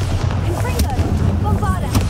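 A Bombarda explosive spell blast in Hogwarts Legacy, booming low-end impacts with crackling bursts over a loud, steady rumble, while faint tonal effects ring above.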